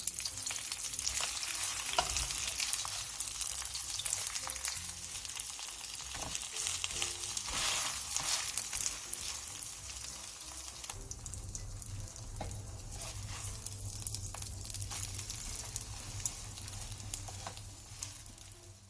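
Spring cabbage (bomdong) jeon pan-frying in oil over medium-low heat, a steady close sizzle and crackle that runs throughout, with occasional scraping and stirring from a spatula.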